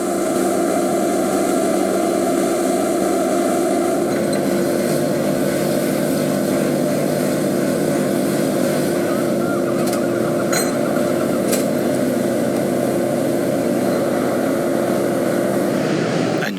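A drone flies overhead at a building demolition site in Blackpool, its steady motor drone sustained and fairly loud across the whole stretch with no talk.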